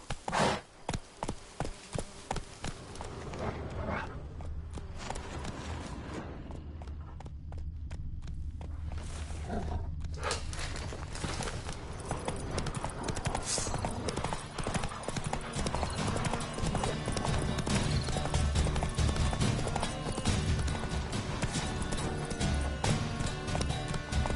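Hooves of Roach, Geralt's horse in The Witcher 3, clip-clop steadily and close. They start at a quick walking rhythm and build into a continuous, busier gait with some ambient insect noise underneath.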